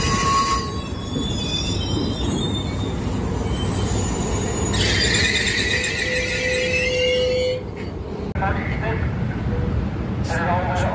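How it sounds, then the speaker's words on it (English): A Sacramento–Auburn passenger train rolling into Emeryville station with loud, shrill wheel squeals over a low rumble, with an arrival announcement speaking faintly beneath. "Your Sacramento Auburn train now arriving."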